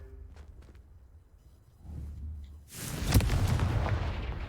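Confringo blasting spell in Hogwarts Legacy: a short muffled burst, then a loud, broad explosive roar that swells and holds for over a second, with no speech.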